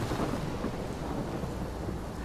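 A thunderstorm in the Life Is Strange game rumbles with heavy rain and thunder as a dense, continuous roar filling the whole moment.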